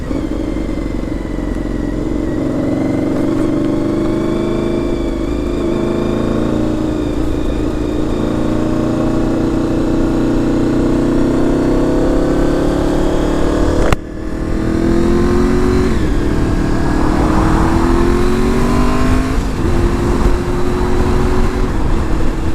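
A Honda VFR750 motorcycle cruises along a dual carriageway on a rainy day, its steady mid-pitched engine drone blended with rushing wind, with a brief shift in pitch partway through.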